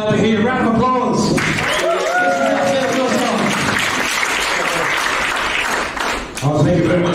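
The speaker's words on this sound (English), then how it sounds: "Round of applause." A warm round of applause from an evening audience after a yidaki performance swells after a speaker's voice and holds steady for several seconds, then fades as talking resumes.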